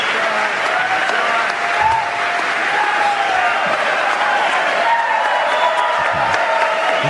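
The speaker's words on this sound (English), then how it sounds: "Listen to the crowd." A large football crowd roars and claps continuously, loud and close, with occasional whoops rising above the sustained cheering throughout.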